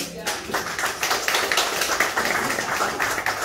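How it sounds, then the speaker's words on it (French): A church congregation clapping their hands in praise, a dense, continuous round of applause with voices mixed in throughout. "Alléluia, on va applaudir le Seigneur."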